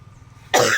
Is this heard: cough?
yes